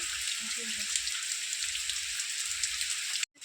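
Heavy rain falls hard and without a break in a village, a thick continuous hiss with a voice speaking softly underneath, cut off abruptly at the end.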